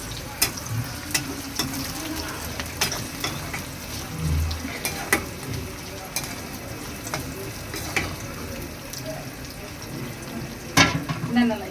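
Green chilies go into a pan of frying onion and garlic. A continuous close sizzle carries frequent clinks and scrapes of stirring, with a louder clatter near the end and no voices.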